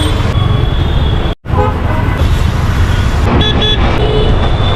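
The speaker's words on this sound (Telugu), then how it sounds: "గాయ్స్ ఇక చూడండి ట్రాఫిక్ చూడండి ఎట్లుందో ట్రాఫిక్." Busy Mumbai street traffic during rain rumbles steadily and loudly close by, with a brief dropout and then several short car horn toots near the end, with no talking.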